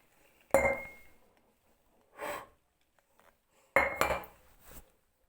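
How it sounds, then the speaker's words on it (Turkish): Homemade noodles are tipped onto a plate with a few sharp clinks and scrapes of utensil against dish, spaced out against quiet. "Şimdi bunu tabağımıza döküyoruz."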